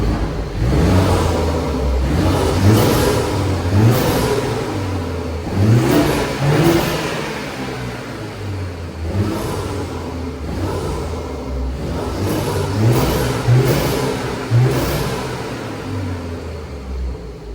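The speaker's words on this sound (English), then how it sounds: "Now that we got the new AEM cold air intake installed," A BMW 330i fitted with an AEM cold air intake revs repeatedly, each rise and fall of engine note close and loud, with intake whoosh between pulls.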